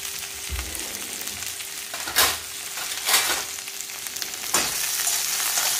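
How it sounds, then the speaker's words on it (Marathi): Okra (bhindi) sizzling in oil in a pan, a steady frying hiss throughout with a few louder stirring scrapes and bursts of crackle. "5 मिनिटं चांगलं फ्राय करून घ्यायचं।"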